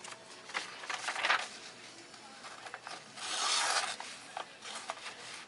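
Knife blade being sharpened: scattered rasping strokes, close and fairly quiet, with a longer continuous scrape in the middle and short gritty bursts between.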